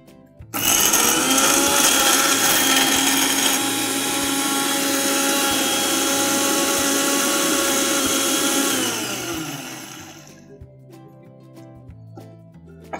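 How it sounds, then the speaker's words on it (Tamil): A kitchen mixer grinding curd and coriander into a fine paste, a loud, steady motor whir that starts abruptly, runs for about nine seconds and then winds down to a stop. "இதை வந்து நம்ம நல்லா ஃபைனாக பேஸ்ட் பண்ணிக்கலாம்."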